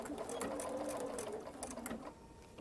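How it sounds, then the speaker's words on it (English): A sewing machine runs steadily, stitching stretch garment fabric with a continuous mechanical whir and needle clatter that eases off near the end. "So now I'm able just to start my stitching"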